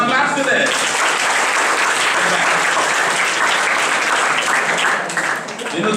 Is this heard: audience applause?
yes